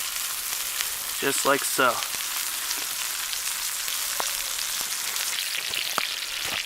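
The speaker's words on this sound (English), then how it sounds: "I'm also going to add just some more butter to the pan" Butter sizzles and crackles steadily in a hot pan beside a ribeye steak being seared over an outdoor bushcraft fire, with a short spoken remark near the start and scattered pops throughout.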